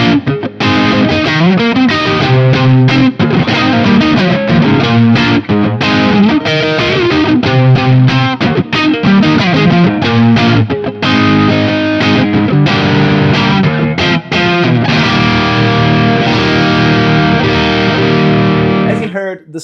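Fender Stratocaster electric guitar played through a BT Arkon 50 amp, giving a loud, continuous distorted tone with chorus-like modulation as chords and riffs ring out without pause.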